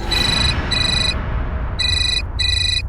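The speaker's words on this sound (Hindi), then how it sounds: "तुम्हारा फोन बज रहा" A phone ringtone chimes in four bright bursts with short gaps, over a steady background rumble.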